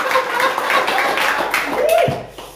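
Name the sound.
congregation clapping for Jesus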